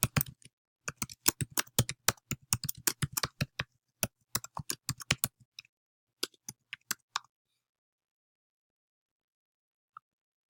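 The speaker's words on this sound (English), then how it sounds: "Type that in." Someone types on a computer keyboard, with rapid irregular clicks for about five seconds, a few slower keystrokes after that, then silence with one last faint tap near the end, close and clear with no talk.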